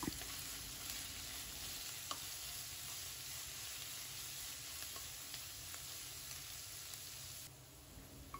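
Sliced onions with curry leaves and a little salt sautéing in a pan for Kerala crab curry, a steady close sizzle with faint stirring scrapes throughout and no talk.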